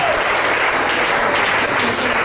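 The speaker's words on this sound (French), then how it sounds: "Acclame encore." Audience at a church seminar applauding, a steady dense wash of clapping that holds loud and continuous throughout.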